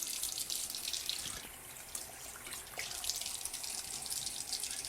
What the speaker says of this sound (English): you turn on the faucet, you want to wet your hands first